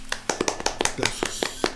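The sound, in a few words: applause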